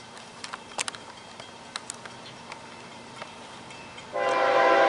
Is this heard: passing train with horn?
yes